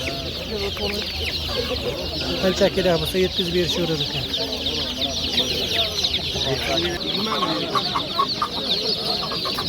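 Two-day-old chicks at a poultry market chirp in a dense, continuous chorus of high peeps, close and busy, with people talking over the flock throughout.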